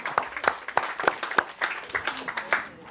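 Audience at a comedy show claps for the comedians, a loose, uneven patter of individual hand claps at moderate loudness, with a few sharper claps standing out and no talk over it.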